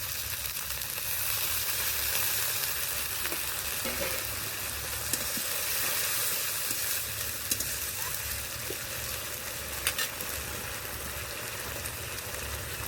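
Water used to rinse spices is poured into a hot pan for rui fish curry, setting off a loud, steady, close sizzle and bubbling that continues throughout with faint stirring clicks.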